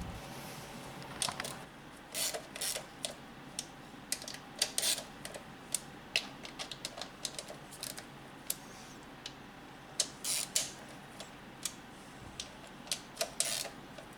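A ratchet tightens TDC sensor bolts on a 2001-2005 Honda Civic in a run of quiet, irregular clicks and ticks, close but faint, with no talking.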